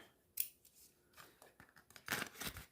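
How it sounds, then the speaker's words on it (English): Scissors cutting cardstock or paper for card making, several quiet snips and crisp slicing strokes, close and isolated with no talking. "Take my mama's handy scissors here."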